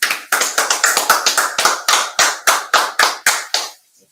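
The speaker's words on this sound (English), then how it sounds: "Let's go ahead and clap it up." An audience claps in a steady, close, unison rhythm, each sharp hand clap distinct and evenly spaced, slowing slightly before stopping.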